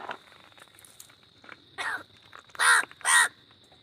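A crow caws several times, a couple of short calls building to two loud, harsh caws close by, with quiet pauses in between.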